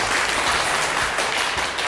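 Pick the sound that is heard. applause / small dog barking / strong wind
applause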